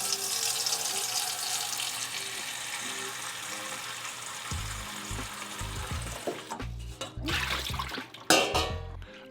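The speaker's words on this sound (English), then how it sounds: "I want to get some close-ups of the water turning on, and then also get some close-ups of like the water kind of hitting the bowl" A kitchen faucet runs water into an aluminum bowl with a steady hissing splash, then a few close knocks and clunks of handling break in near the end.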